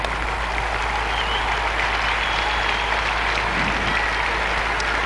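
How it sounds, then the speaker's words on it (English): Sustained applause from a large crowd at Wells Fargo Arena during halftime of an Iowa Class 2A state championship basketball game, honoring sports medicine award winners and officials; a steady, dense wash of clapping throughout. "Ladies and gentlemen, one final round of applause for our Sports Medicine Award winners and our Officials Hall of Fame."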